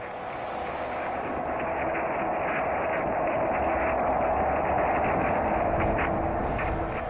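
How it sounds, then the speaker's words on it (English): The sun, as picked up by the orbiting SOHO satellite, rendered as a loud, continuous rumbling roar that stays steady and dense from start to finish, with no voices. "Picked up by the orbiting SOHO satellite, this is the sound of the sun."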